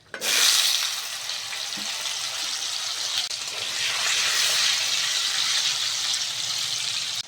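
Potatoes dropped into hot white oil with a little salt in a wok, setting off a loud, dense sizzle that surges at once and holds steadily close up, swelling slightly midway, with no talking over it.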